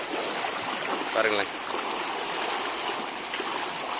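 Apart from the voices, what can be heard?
water stream flowing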